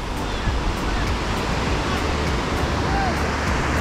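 Indian Ocean surf in Bali roars continuously, a dense, steady wash of breaking waves with wind noise and no pauses.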